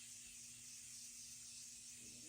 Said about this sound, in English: we're going to go in and use some setting spray before I add my highlight